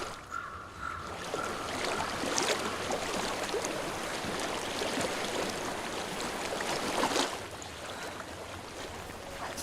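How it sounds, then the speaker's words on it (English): Continuous rushing flow of water in Hellblade: Senua's Sacrifice, a steady splashing, gurgling stream heard close, with a brief tonal sound near the start and a louder swell before settling. "I hear water."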